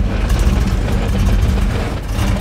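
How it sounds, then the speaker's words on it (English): A Whipple-supercharged Cobra engine idles with a steady, low rumble that stays close and even, its pitch holding roughly constant, and no talking over it. "So that's all the idle that I'm getting."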